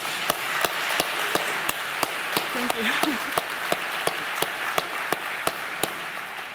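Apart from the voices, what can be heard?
audience applause after a conference talk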